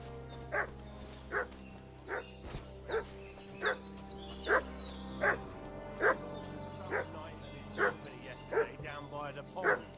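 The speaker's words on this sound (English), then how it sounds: "What's that dog making such a fuss about?" A dog in the video game Kingdom Come: Deliverance II barks repeatedly in an even, insistent rhythm, about a dozen sharp woofs at moderate distance over a quiet outdoor ambience.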